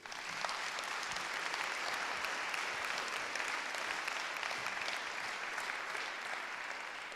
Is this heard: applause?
yes